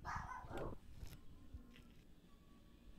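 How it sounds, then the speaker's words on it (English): A dog barks a few times close together at the start, then only a quiet room hum with faint background noise remains. "Who's barking?"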